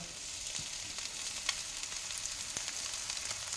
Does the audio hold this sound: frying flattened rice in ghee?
yes